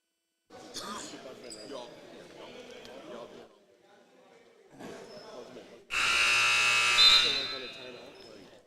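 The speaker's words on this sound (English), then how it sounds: "And there's the buzzer, meaning we are going to be back to action soon enough here" A loud, sustained electronic buzzer blares for a couple of seconds at a basketball game, after a stretch of muffled arena noise and voices.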